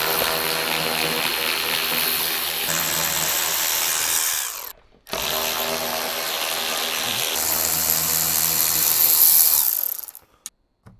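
A power tool spins out screws on a car's chin splitter, a loud close buzzing whir that runs for several seconds, stops briefly, then runs again before cutting off.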